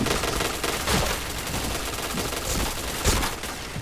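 Rapid gunfire from the video game Point Blank, dense overlapping shots forming a continuous fusillade, loud and steady throughout with a few sharper bursts.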